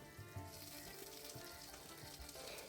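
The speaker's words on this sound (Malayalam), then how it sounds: "1 ടേബിൾ സ്പൂൺ ഇഞ്ചി ചതച്ചത് ഇട്ട് കൊടുത്ത് കുറച്ച് കറിവേപ്പിലയും കൂടി ഇട്ടിട്ട് ഇതൊന്ന് നല്ലതുപോലെ ഒന്ന് വഴറ്റിയെടുക്കാം." Crushed ginger, garlic and curry leaves sauté in coconut oil for fish pollichathu masala, giving a faint, steady frying sizzle with soft crackles, unbroken by any talk.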